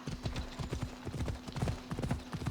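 Horse galloping in the video game Assassin's Creed Odyssey, a fast steady run of hoofbeats in quick rhythmic clusters, moderately close and fairly quiet.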